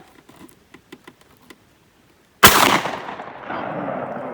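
A 12 gauge shotgun fires a single hollow point slug at an outdoor range, one sharp loud blast after a few soft clicks and handling taps, with a ringing echo fading behind it.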